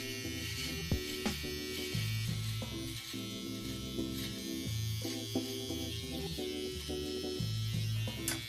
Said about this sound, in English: Working with a good trimmer makes this so easy.